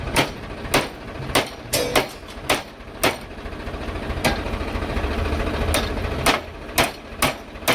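A tractor engine runs with a steady low rumble, punctuated by loud, regular knocking clatters that pause briefly midway and then resume, close by.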